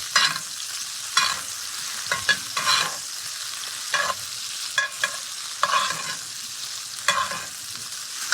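A beef rib steak is basted in sizzling brown butter with thyme and garlic, a constant crackling fry broken by repeated scraping and spooning strokes, close and clear with no talk.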